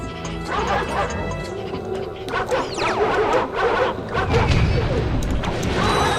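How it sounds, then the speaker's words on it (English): Dogs bark and yip in the Ratchet & Clank video game, with loud repeated barks, a whimper and crashing combat hits over continuous game noise, while someone talks. "Damn dogs."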